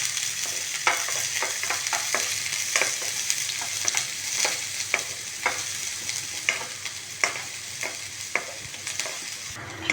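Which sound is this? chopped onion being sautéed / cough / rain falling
chopped onion being sautéed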